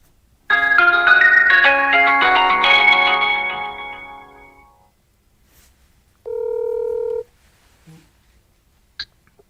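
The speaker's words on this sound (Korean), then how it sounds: "바로 전화로 제가 직접 걸어서 연결을 해보도록 하겠습니다" A phone call being placed, with a steady dial tone lasting about four seconds and fading out, then a short electronic tone burst, followed by a few tiny clicks.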